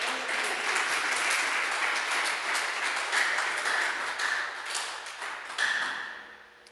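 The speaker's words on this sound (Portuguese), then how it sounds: "Você pode dar um aplauso ao Senhor Jesus?" Church congregation applauding in praise of Jesus, a dense, steady wash of clapping from a crowd that holds throughout, with a few louder swells near the end.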